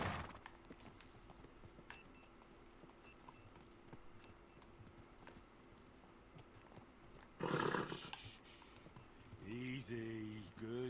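Faint clip-clop of hooves over a quiet background, followed by a horse's short neigh and snorting near the end, in the game Kingdom Come: Deliverance 2.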